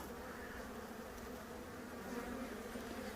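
A swarm of honeybees hangs on a tree branch, droning in a dense, continuous buzz that stays close and fairly soft, with no voices.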